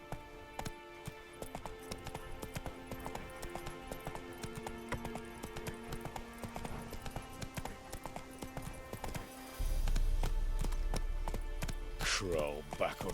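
Roach the horse's hooves in The Witcher 3 make a steady rhythmic clip-clop over game music and ambience, with a louder rumbling surge near the end.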